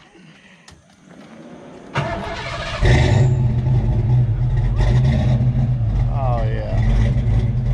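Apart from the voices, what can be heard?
Fox body Mustang engine starting and idling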